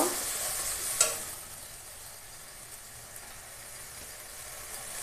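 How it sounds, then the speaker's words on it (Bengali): Mustard and green chili paste sautéing for a hilsa fish dish gives a steady soft sizzle and hiss, with a sharp clink of a utensil near the start and no voices. "এই যে সর্ষে কাঁচা লঙ্কা বেটে রেখেছি এটা দিয়ে দেবো এবার একটু কষিয়ে নেব"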